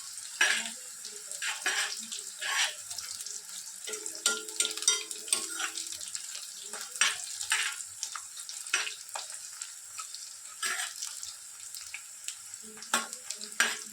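Thinly rolled nimki pastry fries in hot oil, with a steady crackling sizzle broken by repeated scrapes and clinks as the pieces are stirred around the pan.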